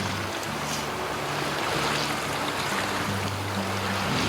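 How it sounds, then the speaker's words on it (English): Ocean waves lap against a rocky shore on the Newfoundland coast, a steady, continuous wash of water with no distinct breaks and no voices. "You hear the waves hitting the shore a little."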